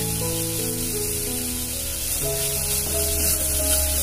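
Tomatoes and curry leaves sauté in a pan for mutton masala curry, giving a steady, close hiss of frying that runs without a break under continuous background music.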